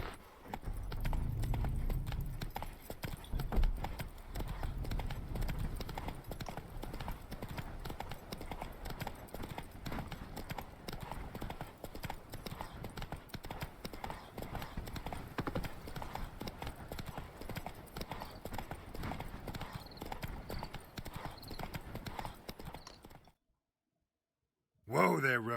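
Hooves of the horse Roach in The Witcher 3 clip-clopping at an easy walk, a steady close rhythm running under soft ambience before cutting to silence, with speech starting right at the end.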